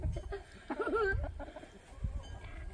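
Farm chickens and a rooster making soft, wavering clucks and calls at close range while being hand-fed, the bursts brief and irregular over light background rustle.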